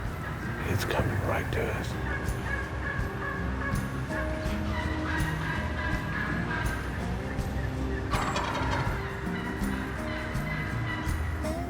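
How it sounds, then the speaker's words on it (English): A wild turkey gobbles nearby at dawn during a fall turkey hunt, with a few sharp, rattling calls coming through against outdoor background noise while a hunter speaks quietly over them. "Oh, there's a gobble."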